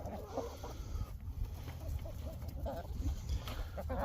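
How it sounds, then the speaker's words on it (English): Backyard chickens cluck and murmur in a steady, close chorus, with short bursts of clucking rising now and then over outdoor background noise. "but every once in a while the chickens fight."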